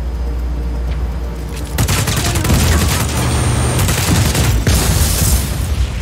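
A generator being shot in Just Cause 4: a low mechanical hum gives way to a sudden loud eruption of rapid gunfire and booming blasts, continuing as dense crackling bursts close up, with no voices.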